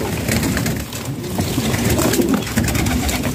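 A pigeon at a pigeon sale coos softly and repeatedly at close range, low throaty calls over a busy background of low rumble, with no talking.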